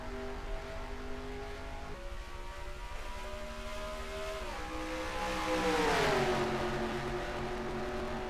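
Several race cars in a racing video game, a NASCAR-style Kobalt Tools 400 event, accelerating together at a lap 6 restart: a steady, loud engine drone whose pitch rises and shifts as the field speeds up, with no talk.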